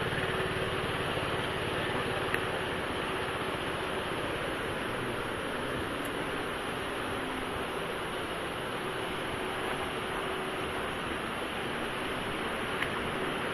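A strong river current rushes past in a continuous, even roar of flowing water, heard up close, steady and unbroken throughout, with no voices.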